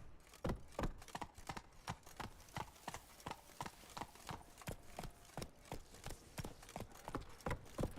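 Horse hooves clip-clopping in The Witcher 3 video game, a steady run of sharp, evenly spaced hoofbeats at close range, with no voice over them.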